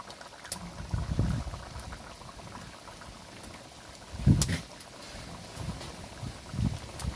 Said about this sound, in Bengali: এখন আমি মাছগুলোকে দিয়ে দেবো।